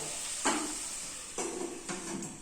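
Onions and tomatoes cook in oil in a covered pan, a steady soft sizzle with three brief louder stirring swishes, quiet and close.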